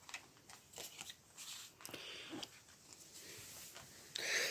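A deck of game cards being shuffled during a tabletop game setup: faint, quick papery riffles and slides in several short bursts, heard alone at low volume.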